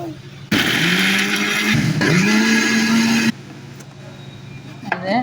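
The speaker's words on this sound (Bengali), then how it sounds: "এগুলো সব একসাথে ব্লেন্ডার করে নেব" An electric kitchen blender grinds biryani spices with green chilies and a little water, a loud whirring motor whose pitch climbs as it spins up, running for about three seconds before stopping, with a brief voice near the end.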